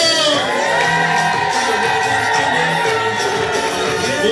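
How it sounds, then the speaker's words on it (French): Guests at a wedding dinner cheer and whoop together in a loud, sustained crowd roar, with shouts rising over dance music. "Les acclamations"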